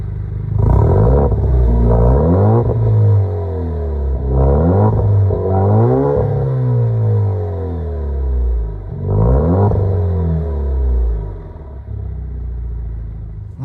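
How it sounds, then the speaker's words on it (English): An Alfa Romeo Giulia fitted with an AFE muffler delete kit revs hard in several loud, close bursts, each rising sharply then falling back to a rumbling idle. "So I remedied that by adding an AFE muffler delete kit"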